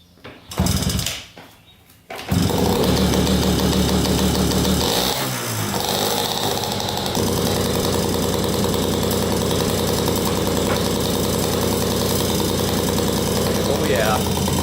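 A small dirt bike engine idling after a carburetor adjustment, starting with a couple of rough bursts, then settling into a steady close buzzing idle that runs on alone with brief wavers.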